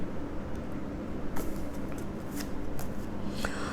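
Tarot cards are shuffled and drawn close by: a run of crisp riffling and flicking bursts, with sharper snaps near the middle and the end, and no talking.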